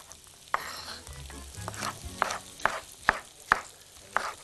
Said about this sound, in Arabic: ما ننساش الجزر، نديله تقليبه سريعه سريعه كده